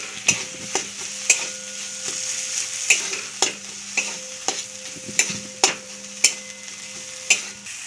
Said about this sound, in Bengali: এবার এগুলো সব নেড়ে নেব।